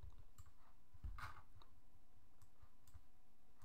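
A computer mouse being clicked while working in Actionscript 3, giving a few quiet, sparse clicks against a low background hum.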